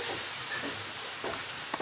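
A steady hiss of liquid sizzling in a hot pan, fairly quiet and continuous, with small crackles.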